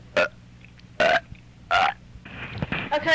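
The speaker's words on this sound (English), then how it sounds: "it's a burp break time" Three loud, close burps come in succession, each short and croaky, followed by a longer stretch of mixed throaty noise.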